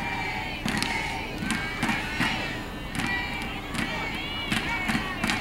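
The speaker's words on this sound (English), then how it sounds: "And they are definitely cheering for the USA." Spectators shout and cheer in bursts at a women's baseball game between the USA and the Netherlands, a steady murmur of voices swelling into repeated rising yells and whoops from a nearby crowd.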